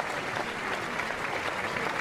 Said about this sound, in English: And Ryan Moore now, and a huge cheer as well for him.